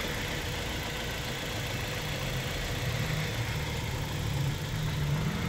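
A Nissan X-Trail with a pedal sensor problem idles with a steady, low, even engine hum and faint mechanical rattle, close by and unbroken, with no voices.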